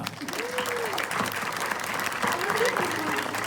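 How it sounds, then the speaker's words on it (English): Audience round of applause at an Agents of SHIELD 100th episode screening Q&A, sustained crowd clapping mixed with cheers and whoops, under and around voices. "Give yourselves a round of applause."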